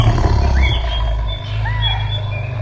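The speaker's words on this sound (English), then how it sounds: "A tiger is a powerful wild cat." A tiger roars loudly in a wild-cat sound effect, a deep rumbling growl with a brief second surge partway through, heard alone with no talk.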